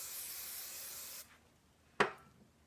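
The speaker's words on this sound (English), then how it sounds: "I'm going to spray it on the back side." Hairspray from an aerosol can misted onto the back of styled cheer hair, one sustained hiss of about a second, then a quiet pause and a short sharp click or spritz.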